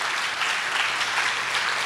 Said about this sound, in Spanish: Un abrazo, un aplauso para ti